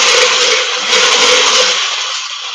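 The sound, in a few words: whisking salad dressing with an electric mixer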